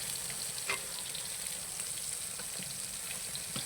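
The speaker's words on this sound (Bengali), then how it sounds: "3টা উপকরণ দিয়ে বেগুনটাকে ভালোভাবে ভেজে নিব" Brinjal (eggplant) slices fry in a pan with a steady, close sizzle and a few faint crackles, and no voices.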